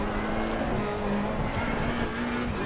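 Race car engine in Assetto Corsa Competizione at Watkins Glen, a sustained engine drone with shifting tonal pitch as it pulls through low gear, steady and fairly close.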